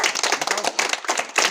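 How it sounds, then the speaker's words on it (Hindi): Small children clap their hands in a quick, uneven burst of sharp claps, close and fairly loud, with no talk over it. "ताली बजाओ।"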